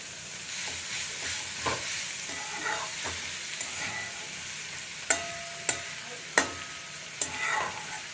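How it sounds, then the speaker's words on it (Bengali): Radish greens fry in a pan with a tempering of mustard seeds and dried red chilies, giving a soft, steady sizzle. Light stirring scrapes and a few sharp spatula taps against the pan sound near the end. "মূলো শাকটা সর্ষে আর শুকনো লঙ্কা ফোড়ন দিয়েছি"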